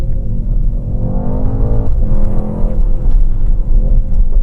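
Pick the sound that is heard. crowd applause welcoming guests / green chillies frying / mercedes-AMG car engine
mercedes-AMG car engine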